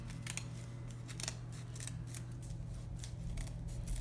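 Scissors cut a folded paper snowflake in short, crisp snips that repeat in a steady rhythm, close and fairly quiet, with a low hum underneath.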